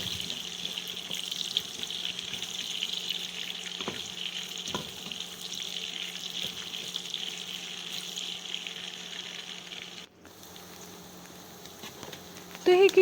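Potatoes frying in hot oil in a home kitchen: a steady, close sizzle and crackle throughout, with a couple of soft stirring knocks and a brief clatter near the end.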